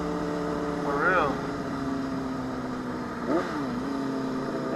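Honda CBR 600RR motorcycle engine with a high-pitched tone, holding a steady drone with two brief revving rises at moderate distance, over a constant low hum.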